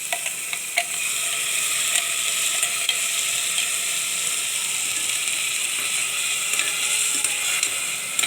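Ground masala paste and chopped tomato frying in hot oil for mutton soup, a loud, continuous close sizzle with faint scraping and ticking from stirring throughout, no voices.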